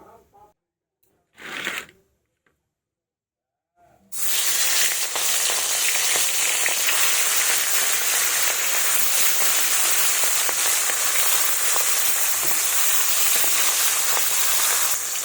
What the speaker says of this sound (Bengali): কড়াইয়ে সরিষার তেল দিয়েছি, গরম হয়ে গেছে। এবার মাছগুলো ছেড়ে দেব।